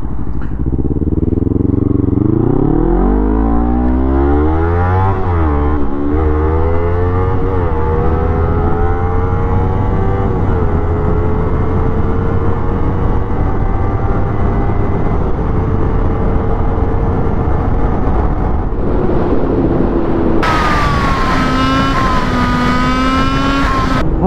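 A Kawasaki Ninja 300 revs hard through rising gear changes while riding fast on a highway, loud and close with steady wind roar, the engine climbing and shifting repeatedly.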